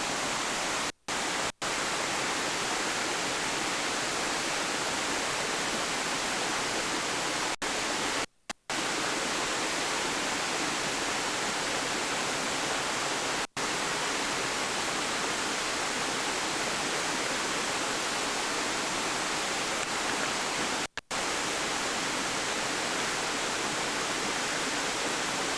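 A waterfall roars in a steady, dense wash of rushing water that fills the whole scene without pause, loud and unbroken throughout with no voices over it.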